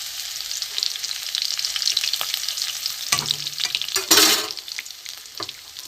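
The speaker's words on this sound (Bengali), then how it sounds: "এখানে আমি দিয়ে দেবো রসুন কুচি" Minced garlic sizzles steadily in hot oil, with a few louder bursts of crackling and a brief scrape of stirring, close up and without talk.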